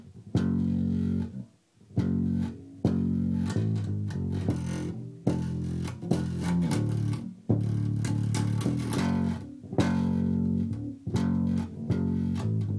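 A bass guitar plays a synth bass line at a slowed tempo, repeating deep, sustained notes in clear phrases separated by short gaps, loud and close.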